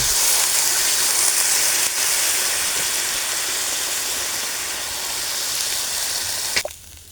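Fish curry of katla fish simmers steadily after broth is added, a continuous broad hiss and bubble that stays even throughout before a short clatter near the end.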